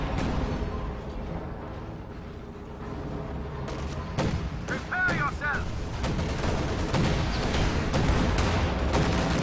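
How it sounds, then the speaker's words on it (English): Raketenwerfer gun firing in Company of Heroes 2, a loud sharp report amid a dense, continuous battle din of gunfire and explosions, with a brief whistling burst near the middle and a voice commentating over it. "Raketenwerfer gets its second shot off."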